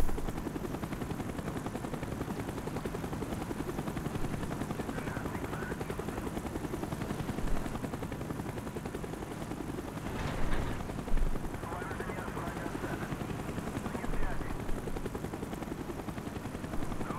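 A helicopter in the video game Call of Duty Black Ops drones steadily in the background throughout, a continuous low rotor rumble with brief louder bursts of gunfire-like noise around the middle.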